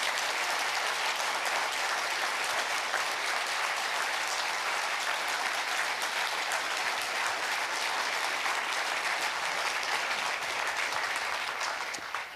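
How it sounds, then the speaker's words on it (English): Sustained, dense audience applause at a public talk on intelligence and election security, steady and full throughout for about twelve seconds, tapering slightly at the very end. "So one more round of encouraging applause"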